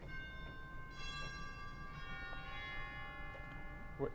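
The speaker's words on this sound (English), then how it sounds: "And we've got some northern chimes." The chimes stop of a large 121-rank pipe organ in Washington DC rings out as sustained bell-like tones, several struck notes overlapping and decaying over a low, steady hum.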